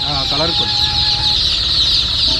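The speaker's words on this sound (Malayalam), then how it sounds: "இது என்ன பேர் அண்ணா கோழி நாட்டுக்கோழி நாட்டுக்கோழியா கலர் கோழியா" A country hen clucks briefly near the start, then a loud, constant hiss and rumble fill the rest.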